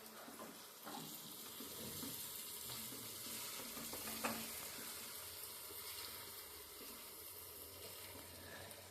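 Bhaji masala stirred in a hot pan over high flame, a steady close sizzle with faint scraping of the spoon and one brief clink.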